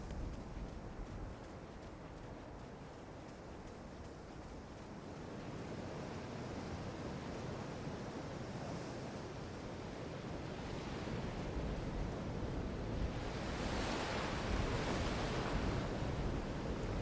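Beach waves in Hitman 3 wash in with a steady, broad roar of surf, swelling and receding with gentle wind, one louder breaker hissing near the end, no voices.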